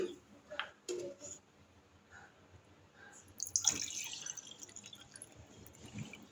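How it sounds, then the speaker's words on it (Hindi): Water is poured from a container for watermelon sharbat, coming as faint intermittent trickles and drips that build to a fuller splashing pour, quiet and close. "इसमें डलेगा सबसे पहले पानी"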